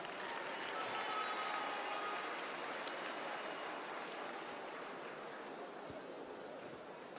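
Quiet, steady applause from a school assembly crowd, a dense wash of hand claps holding at an even level for several seconds with no distinct individual claps standing out.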